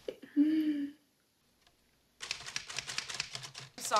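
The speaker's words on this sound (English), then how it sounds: "The way he's typing." Typewriter keys clatter in rapid bursts of sharp strikes in a scene from the film Misery (1990). A brief voice comes before the typing, after a short silence.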